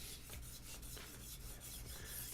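A steel knife blade drawn across a sharpening stone in a few quick rasping strokes, faint and close, with no voices.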